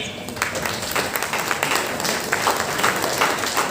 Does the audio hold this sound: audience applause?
yes